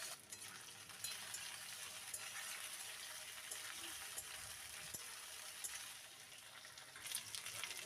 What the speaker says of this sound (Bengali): ওই কড়াইতেই আমি এঁচোড়টা হালকা ভেজে নেব।